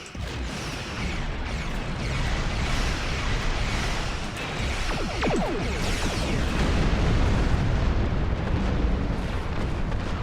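A heavy cannon barrage from a warship in the Star Trek Online space combat game roars continuously, dense rumbling blasts and bursts layered over one another at constant high loudness with no pauses.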